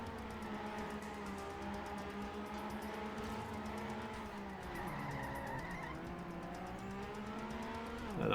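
Car engine holds a steady harmonic drone under tire squeal and skidding while drifting downhill on a track in a racing video game, with pitch shifts mid-run and a rising rev at the end.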